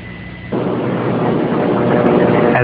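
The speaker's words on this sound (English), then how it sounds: "the X-36 took off from Rogers Dry Lake at Edwards Air Force Base" The X-36 experimental aircraft takes off from Rogers Dry Lake at Edwards Air Force Base, California: a loud broadband jet roar surges in abruptly and holds steady, growing slightly stronger.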